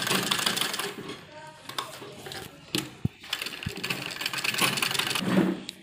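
Sewing machine stitching elastic onto a small baby dress: bursts of rapid mechanical clatter broken by brief pauses, with sharp clicks and knocks in between, close and fairly loud.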